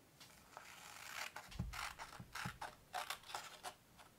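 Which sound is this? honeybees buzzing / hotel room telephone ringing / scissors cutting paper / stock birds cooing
scissors cutting paper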